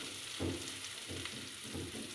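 Potato batter dropped into garlic frying in oil, giving a soft, continuous sizzle with a few gentle bursts as it hits the pan, fairly quiet and close.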